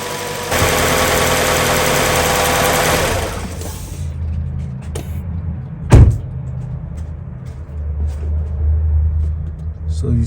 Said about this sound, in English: When your pump goes on, that's how you know.